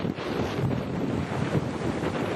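Strong wind at sea on a sailboat, a steady roaring rush buffeting the microphone, alone without voices.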